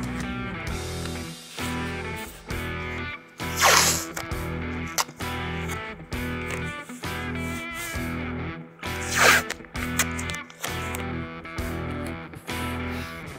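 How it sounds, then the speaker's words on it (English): Packing tape is pulled off the roll in two sharp ripping bursts to hold a moving blanket against the rear window of a 2014-2022 fifth-gen Toyota 4Runner during a Prinsu ladder install, heard over steady background music. "tape up this moving blanket on the back"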